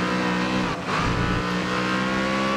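Race car engine accelerating in a Nintendo Switch racing game, a loud, steady revving drone with rising pitch and a brief dip before climbing again, no voices.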